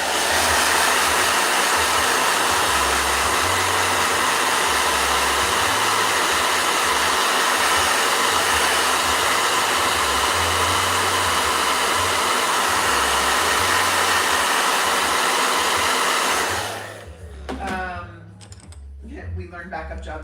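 A blow dryer runs with a loud, steady whir for most of the stretch, then cuts off, leaving quieter room sounds and some brief voices.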